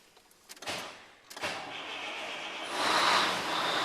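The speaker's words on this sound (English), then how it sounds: "Now start up the engine." A truck engine cranks with a couple of clicks and a whirring starter, clutch depressed, then catches and settles into a steady rumbling idle in neutral, fairly close.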